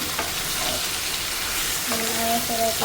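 Meat sizzling and frying loudly in a hot pan during home cooking, a steady bright crackle throughout, with a voice speaking briefly underneath toward the end.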